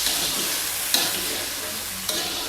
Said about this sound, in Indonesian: Kita aduk terus biar gak gosong ya teman-teman.